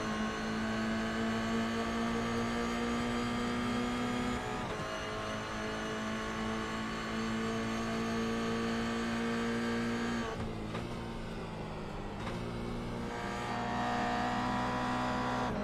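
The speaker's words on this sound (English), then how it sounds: "Getting on the loud pedal nice and early is going to be Slater here." GR Cup race car in a sim racing championship, engine droning and revving steadily under acceleration with a steady pitch that shifts and drops near the end, moderately loud with no voices.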